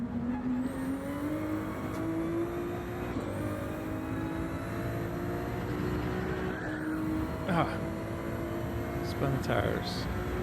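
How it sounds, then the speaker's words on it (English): Race car in Gran Turismo 7 with engine droning steadily through the whole stretch, tone slowly rising, and brief squealing tire-spin bursts near the end; someone talks over it. "spun the tires. Got loose."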